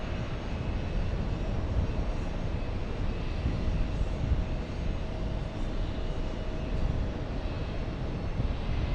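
Lufthansa Boeing 747 engines roaring at an airport as the jet operates, a broad steady rumble with a faint whine, loud and continuous throughout with no voices.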